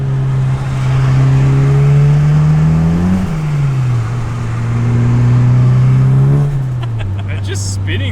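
A turbocharged car accelerates hard on a street, its engine droning loud and close with a steady rising pitch, dipping once midway before climbing again as the wheels spin.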